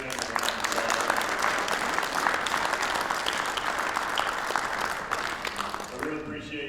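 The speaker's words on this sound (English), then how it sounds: "Let's give this great panel a round of applause." A conference audience gives a panel on the fixed-odds future of the horse racing industry a long, steady round of applause, dense and sustained throughout before easing near the end.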